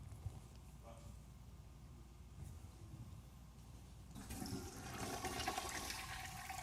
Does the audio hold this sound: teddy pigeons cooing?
no